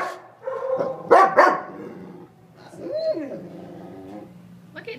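A male shelter dog whimpers and yips softly during a temperament test, short whiny cries near the microphone alongside a person's voice speaking to him.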